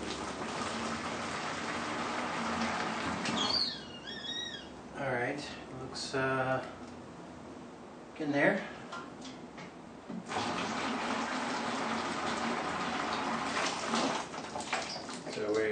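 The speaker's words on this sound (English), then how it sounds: "what I'm going to do here is pour it to about the 2 liter mark into the fermenter" Hot water poured from a kettle into a plastic beer fermenter for brewing a Coopers lager kit, a steady close splashing rush that breaks briefly in the middle while someone talks, then resumes.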